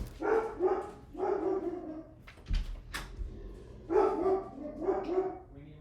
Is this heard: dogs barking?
yes